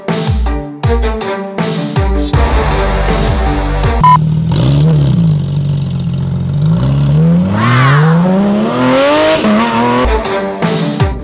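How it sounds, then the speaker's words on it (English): A stock 2024 Porsche 992 GT3 RS engine revs hard in several loud bursts, rising and falling in pitch with sharp blips and sustained climbing wails, close and alone. "This is the new 2024 GT3 RS. So the noise is terrible."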